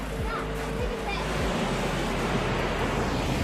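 Steady broadband rushing of falling water from Devil's Bridge Waterfalls in Wales, loud and continuous, with a voice briefly heard over it.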